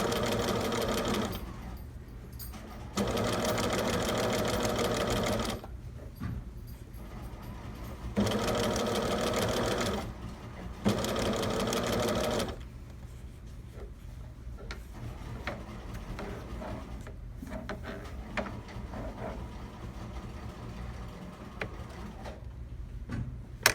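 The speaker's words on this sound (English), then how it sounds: "then I just pick up my presser foot, shove it back where I want it to go, and then keep on sewing." A sewing machine stitches the facing of a sleeve in several loud, steady bursts of rapid needle clatter, separated by pauses filled with quieter handling sounds of fabric and the presser foot.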